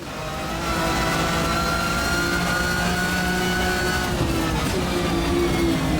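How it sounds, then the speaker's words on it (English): A BMW touring car in the racing game Race 07 at Brands Hatch, its engine droning and revving steadily at close range for the whole stretch, the pitch shifting as it power slides through a corner. "I'm too busy power sliding a BMW touring car around Brands Hatch"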